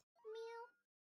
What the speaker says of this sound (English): There's a lot of meowing.